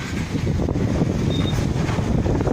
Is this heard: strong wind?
yes